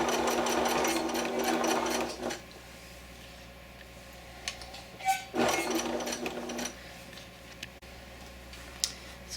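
A sewing machine stitching a chenille scarf, a close steady mechanical whirr running in two bursts of a couple of seconds each with quiet handling clicks between them.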